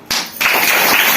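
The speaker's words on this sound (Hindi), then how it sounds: "उसके लिए एक जोरदार ताली" An audience claps at a Hindi-language lecture on natural farming based on Vrikshayurveda. After a sharp tap, a loud, close burst of dense clapping follows and carries on briefly without speech.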